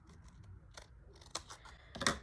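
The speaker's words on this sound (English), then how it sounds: "I think I can even cut it here" Paper scraps being cut with a paper cutter: a few soft, separate snips and slicing sounds, the last one louder and nearest, in a quiet room with no talking.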